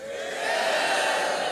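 A crowd at a Special Olympics USA Games volunteer orientation shouts its answers to a true-or-false question in one sustained, swelling group yell.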